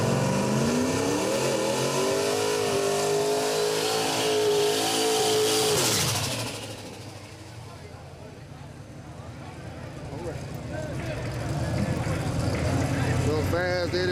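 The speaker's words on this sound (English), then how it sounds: "Fast Eddie Turbo on a shakedown" A turbo drag race car on a shakedown run roars loudly at high revs, then the engine note drops away and builds again, heard outdoors at a grudge race.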